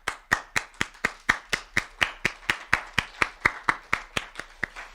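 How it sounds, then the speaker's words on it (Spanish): Steady rhythmic clapping in applause for the youth, about four claps per second, even and close, with no voices over it. "hay que pararnos y hay que darles un aplauso"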